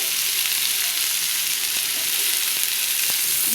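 Vegetables for shukto sautéing in a pan, a dense, constant close sizzle of frying with a couple of faint spoon taps, no voices.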